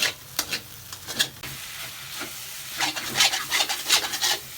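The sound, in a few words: spatula scraping beef and eggs frying in a pan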